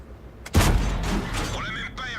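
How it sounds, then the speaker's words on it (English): A tank cannon fires at a KV-5 in World of Tanks: one loud, booming shot followed by a rumbling tail and a softer metallic ring, with a commentator's voice over it. "Some more unlucky shots onto that KV5"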